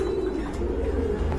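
A pair of Koka pigeons, a Gobindo Koka breed, coo softly and continuously at close range, a low throaty murmur running steadily without talk.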